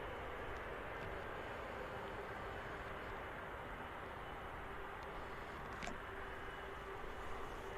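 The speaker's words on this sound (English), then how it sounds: "we're about to see a beautiful aircraft, 330 of Virgin Atlantic departing from the runway in action today" A Virgin Atlantic Airbus A330 departs from runway 05L at Manchester Airport. Its engine roar is a broad, steady rushing drone at a moderate distance and holds level throughout without fading.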